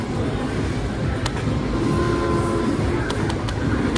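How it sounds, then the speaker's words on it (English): A train passes close by near a river, a loud continuous rumble and roar of rail cars with faint rhythmic clatter throughout. "We'll let that train pass by."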